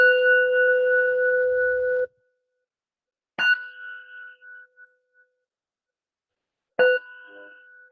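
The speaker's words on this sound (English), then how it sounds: "when you hear a bell, notice the rising and falling of the sound" A mindfulness bell rings three times during a guided meditation, each strike a clear, sustained metallic tone that blooms and slowly fades, with long quiet gaps between; the first ring sustains longest.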